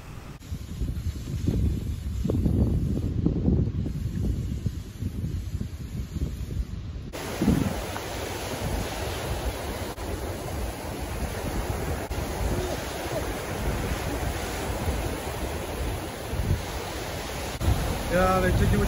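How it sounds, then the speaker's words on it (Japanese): Strong wind on the Shonan coast near Enoshima buffets the microphone with a continuous low roar, mixed with distant surf, steady and loud for the whole stretch. "風が強いんで飛ばされないか心配ですけど"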